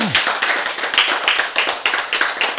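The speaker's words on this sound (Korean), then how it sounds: "박수!" Lecture audience clapping in unison on cue, a loud, close burst of rhythmic claps at a steady quick beat, with no speech over it.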